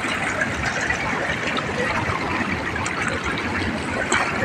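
Water pours steadily into a village pond, a dense, continuous rushing wash that stays close and even throughout, with no talking.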